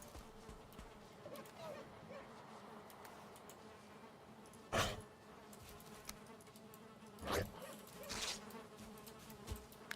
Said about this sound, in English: And we already got our bees.